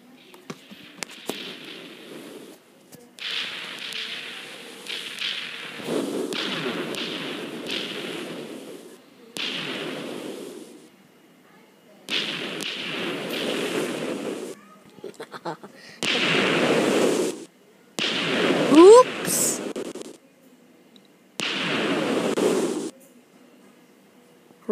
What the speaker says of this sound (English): Now, for you to enjoy a mega explosion